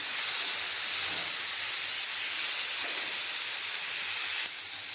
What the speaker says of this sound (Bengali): ওই তেলে দিয়ে দেবো পেঁয়াজগুলো